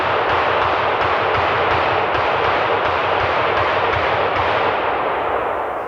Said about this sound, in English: my neighbor's shooting too